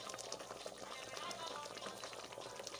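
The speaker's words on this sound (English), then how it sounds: "our banga stew is still boiling" Banga stew boiling in a pot, a steady, dense bubbling and hissing simmer that stays even throughout, fairly quiet and close with no talk over it.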